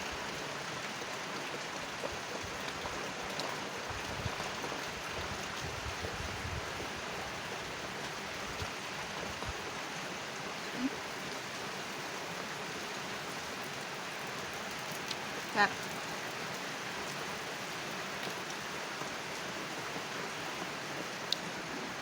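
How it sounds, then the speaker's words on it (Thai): Steady rain pours down outdoors during a rural Thai meal of grilled fish, papaya salad and bamboo shoot soup, a dense continuous hiss with a few faint knocks and no talk. "ฝนกระตกเลยพี่น้อง"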